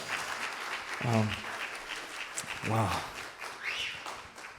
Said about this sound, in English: you can also clap for our Los Angeles Family Church band.